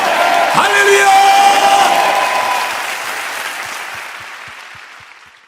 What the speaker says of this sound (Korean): 우리 주님, 우리의 믿음이 되시는 주님, 소망이 되신 주님께 뜨거운 박수를 영광 올려드립니다